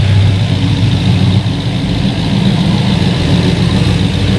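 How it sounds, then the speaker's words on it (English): The LS-swapped engine of a Volvo 940 wagon idles loud and close, a steady low rumble with a fast ticking chatter from the injectors layered over it. "You can hear how loud his goddamn injectors are chatty as shit."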